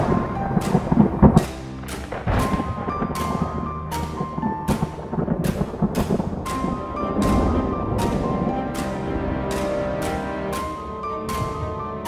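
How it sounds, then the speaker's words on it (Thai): Storm effect in a Barbie doll mermaid princess story: repeated sharp thunder cracks and rumbling booms strike at irregular intervals over a steady background of wind and rain. "พายุมาแล้วนะ"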